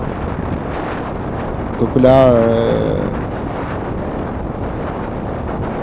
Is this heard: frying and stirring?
no